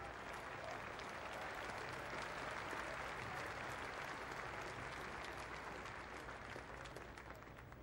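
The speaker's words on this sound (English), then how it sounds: "Harrison, every run being cheered by the Yorkshire supporters here" Yorkshire supporters at a County Championship cricket match against Middlesex applaud runs, with steady distant clapping that fades slightly toward the end.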